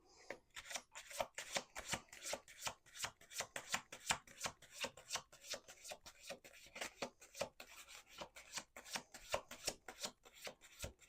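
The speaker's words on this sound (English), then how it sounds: "One more shuffle." Tarot cards are shuffled continuously, a rapid series of soft papery riffles and rubbing snaps in an uneven rhythm, close and quiet, with no talking.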